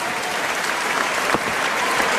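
A boxing arena crowd applauds a WBA super bantamweight world champion, a dense, steady wash of clapping at moderate distance that holds throughout without a break.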